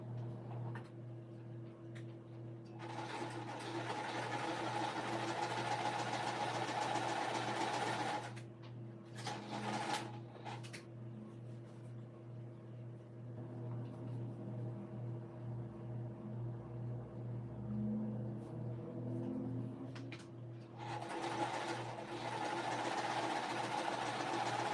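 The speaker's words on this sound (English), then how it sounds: "now I'm just sewing these 2 half square triangles together" A sewing machine runs at home while two half square triangles of cotton quilting fabric are stitched together: steady mechanical whirring in several bursts with short pauses, fairly quiet against a constant low hum.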